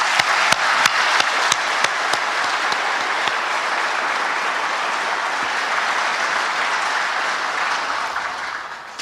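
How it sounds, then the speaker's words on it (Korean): Sustained audience applause at a Korean government policy-report ceremony, dense and steady throughout with a few sharper individual claps near the start, loud and fairly close, no talking over it. "모두 함께 감사와 격려의 박수를 보내주시면 좋겠습니다."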